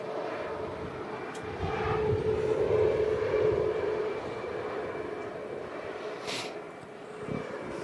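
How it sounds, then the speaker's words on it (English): TUI Boeing 737 MAX airliner touching down at a windy Manchester Airport, a distant jet roar that swells and fades under broadband wind rumble, with no one speaking. "We have a TUI Max touching down here."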